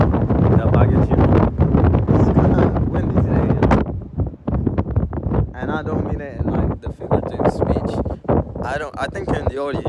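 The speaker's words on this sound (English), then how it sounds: "I think in the audio you can hear how windy it truly is." Strong wind buffets the microphone on the outside deck of a boat, a loud, constant rumbling roar with gusty bursts, while people talk over it.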